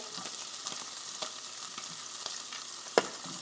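Chopped onion sautéing in a pan for Jamaican ackee and saltfish, with a continuous close sizzle and crackle, soft stirring scrapes and one sharp utensil clack near the end.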